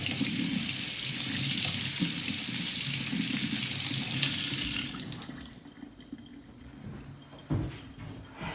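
Tap water runs steadily into a sink as something is rinsed off during drink preparation, a dense close hiss for about five seconds before the flow cuts and leaves quieter drips and small clatters.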